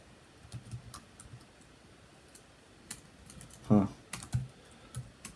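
Computer keyboard typing while coding an app, scattered light key clicks in short bursts with a cluster of louder taps near the end, close and fairly quiet.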